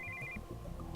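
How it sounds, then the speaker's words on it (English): Brief electronic cell phone ringtone signalling an incoming call in Steins;Gate 0, a short high warbling burst at the very start that cuts off quickly, leaving background music. "we heard the sound of an incoming call on a cell phone."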